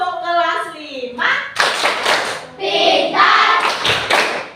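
Grade 5 students perform a class clapping chant in a patterned rhythm of sharp, close, loud claps, mixed with children's chanting voices and a teacher speaking at the start.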